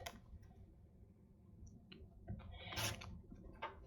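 A rotary cutter trims the edge of quilting fabric on a cutting mat, giving quiet clicks and a brief scraping slice near the end, close and faint, with no talking.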